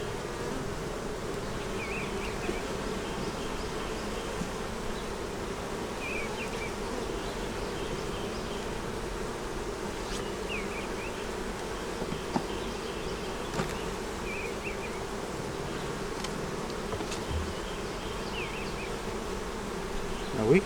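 Honey bees crawl over a hive frame of foundation, giving off a steady, close, unbroken buzzing drone with occasional louder passes from individual bees. No one speaks.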